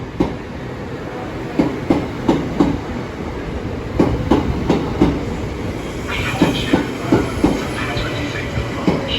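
A Class 375 electric passenger unit with eight coaches passes at Ashford International station, its wheels giving a steady run of rhythmic clickety-clack beats over rail joints, loud and close, with a low rolling rumble beneath and no talk.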